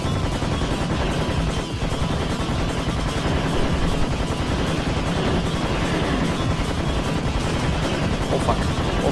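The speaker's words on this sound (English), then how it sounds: "I'm just shooting and hoping for the best." Sustained heavy gunfire rattles on without pause in Serious Sam HD: First Encounter's Oasis level, loud and dense, with a voice occasionally audible underneath the shooting.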